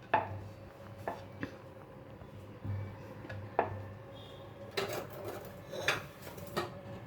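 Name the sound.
cutting rolled aloo paratha dough to size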